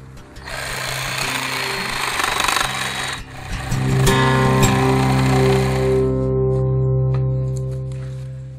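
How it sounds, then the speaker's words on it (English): An electric power tool carves fine detail into a wooden sculpture, a loud steady whine and grind running close and continuous, with the pitch shifting into a smoother tonal hum partway through as the tool works the wood. "Some of the more delicate areas, I like to go to a electric tool."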